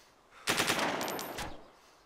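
A rapid burst of automatic fire from a PM-73 RAK machine pistol in the video game DayZ, about a second of fast, evenly spaced shots, loud and close.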